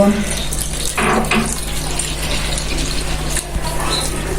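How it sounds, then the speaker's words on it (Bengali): Milk is poured gradually into a sweetened, salted batter for patishapta pitha, making a continuous close trickling splash that lasts the whole few seconds without a break. "এখন আমি দুধ দিয়ে ব্যাটারটা গলিয়ে নেব"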